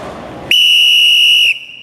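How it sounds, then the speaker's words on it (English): A sharp, loud whistle blast sounds once for about a second, piercing and steady, then cuts off, heard up close at a South Florida wrestling event. "Blow the whistle."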